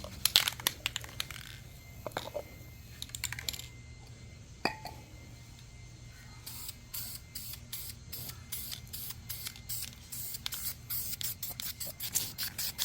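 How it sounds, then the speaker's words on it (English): High-temperature 900-degree primer sprayed from an aerosol can onto a brake rotor, heard as bursts of hiss with short pauses, mixed with faint rattling and scraping handling noises close by. "So don't worry about spraying the rotor"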